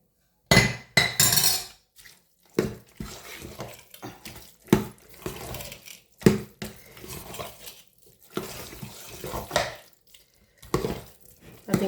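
A spoon clinks and scrapes in a pot while ven pongal of rice and dal is stirred, with irregular bursts of metallic knocks and pauses between them.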